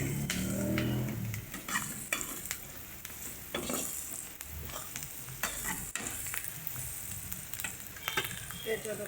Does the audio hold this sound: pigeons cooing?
no